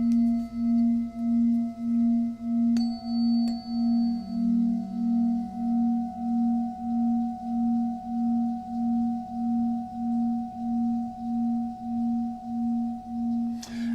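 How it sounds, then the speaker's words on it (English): A steady, pulsing electronic tone holds throughout, with a higher tone and faint added tones joining and fading in layers over it, alone and fairly loud. "you've got the basic tone,"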